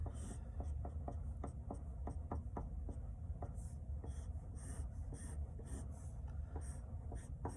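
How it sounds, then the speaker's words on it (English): A pen draws big snowflakes on paper, a quiet run of quick regular scratching strokes repeating close up against soft background hiss. "So I'll draw some big kind of snowflakes on the arms."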